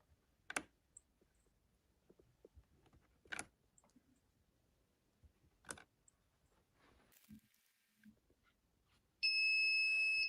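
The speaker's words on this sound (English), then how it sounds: "the alarm starts going off" A timer alarm on a pill dispenser in a competition robotics demo starts beeping loudly at the very end, a steady electronic tone, after quiet scattered clicks and handling sounds.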